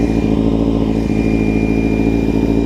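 A motorcycle engine runs loud and close with a steady, throaty exhaust drone that continues throughout without a break.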